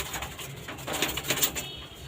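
A Kalenga pigeon held in the hand, giving soft throaty coos that rise and fall over a couple of seconds against a broad background hiss, close by with no talking.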